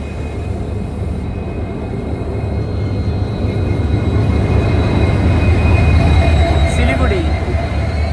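A Guwahati–Silchar Express hauled by a WDP 4D diesel locomotive passes, its steady low rumble of wheels and engine rising gradually in loudness, with a faint high squeal from the rails near the end.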